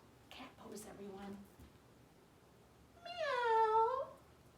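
A voice imitates a cat meowing: one drawn-out, rising and falling meow after a few soft spoken words, quiet and close.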